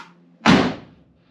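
An old door swung shut after being lined up, a single solid slam with a short thud that dies away quickly, close and loud in an otherwise quiet space.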